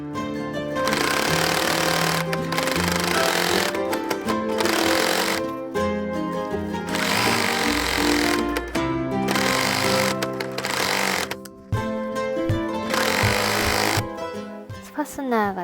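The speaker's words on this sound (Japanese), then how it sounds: "ウエストベルトのもう反対側も縫い付けよう。" A sewing machine stitches a waistband onto a child's suit in loud, sustained runs of rapid mechanical chatter, broken by short pauses, with music playing underneath.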